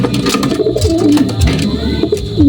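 Soft, low pigeon cooing runs throughout in repeated throaty phrases, close by, with some faint background noise.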